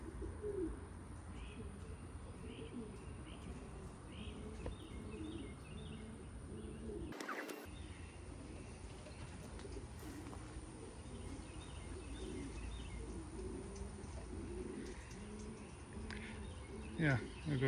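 Racing pigeons, among them a red grizzle and a tiger grizzle, coo softly in a loft over steady insect-like buzzing and background hiss, with a brief loud knock midway.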